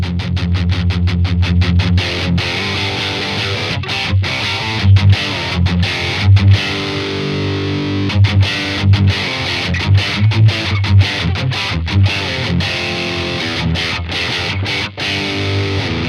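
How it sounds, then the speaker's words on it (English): Heavily distorted electric guitar with single-coil pickups through a high-gain distortion, playing chugging, palm-muted riffs with sharp stops, loud and dense with thick low end. "when you're running like a big high gain distortion"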